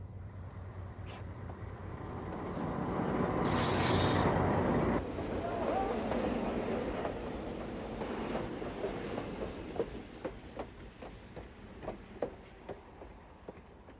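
A passenger or freight train at a working museum railroad rumbles past nearby, building to a loud roar, then a steady clickety-clack of wheels over rail joints as the cars roll by.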